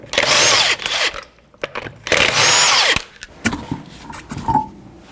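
A power tool spins a 21mm socket to remove a wheel on a 2006-12 Toyota RAV4, two long whirring bursts of about a second each separated by pauses, followed by softer clicks and rattles of the socket and lug nuts.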